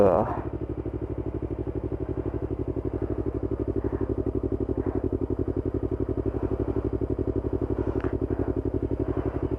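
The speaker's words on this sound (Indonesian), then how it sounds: "Untuk suara knalpot Kia Speed 35 cm full saringan ini halus banget teman-teman." A Yamaha R25 with a 35 cm fully baffled Kia Speed aftermarket exhaust idles nearby with a steady, even rapid pulsing rumble, smooth and unbroken for the whole stretch, with speech faintly mixed in.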